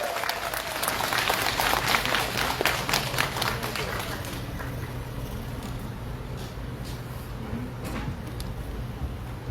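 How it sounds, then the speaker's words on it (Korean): Applause and cheering from a crowd at an outdoor call center workers' strike rally, steady and loud throughout, with a low hum of the gathering underneath. "박수 부탁드립니다."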